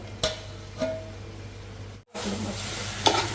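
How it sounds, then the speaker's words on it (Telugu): Chicken stirred in a pan over a low flame for biryani, with steady sizzling and a few sharp scrapes of the spoon against the pan, a brief gap, then louder frying. "సో చికెన్ ఇలా కలుపుకోవాలి"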